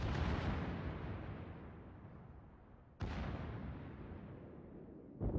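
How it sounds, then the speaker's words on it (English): Naval guns firing from a Shimakaze destroyer in World of Warships, two heavy booming salvos about three seconds apart, each with a long rumbling decay, and a third blast beginning at the end. "the Shimakaze is using his guns"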